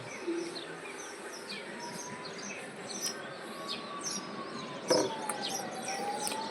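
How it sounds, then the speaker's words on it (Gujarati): A siren wails faintly along a road in a Gujarati town, its rising and falling tone drifting through in the distance while birds chirp nearby and a brief thump sounds partway through. "જો રોડ ઉપર સાયરન વાગે છે."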